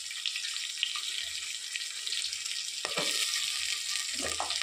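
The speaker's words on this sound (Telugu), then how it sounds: "ఆనియన్స్ కొద్దిగా వేగిన తర్వాత" Onions frying in a pan give a steady, close hiss and sizzle throughout, with a few light scrapes and taps near the end and no talking.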